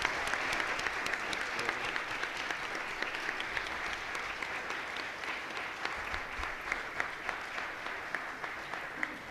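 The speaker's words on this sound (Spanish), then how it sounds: "un aplauso para nuestros invitados" An audience at a talk on John Tutino's work gives its guests a long round of steady, dense applause that stays even and fairly loud for several seconds.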